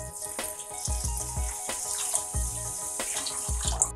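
One liter of water pours into a pan of sugar, pandan leaves and salt for tamarind syrup, a close, continuous splashing stream with gurgles.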